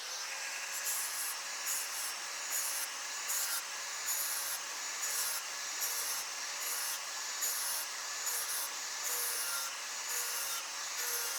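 An angle grinder fitted with a flat disc grinds the edge of a lawn mower blade, giving a steady, bright abrasive hiss that pulses gently in loudness throughout, with no voices.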